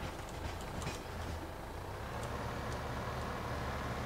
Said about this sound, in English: Press R here. Train will go.